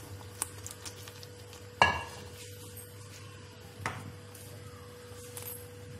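Lotus seed and peanut sweet mixture being stirred in a pan as milk powder is added, a few soft scrapes and clinks of a utensil against the pan over a quiet background, with sparse, brief knocks.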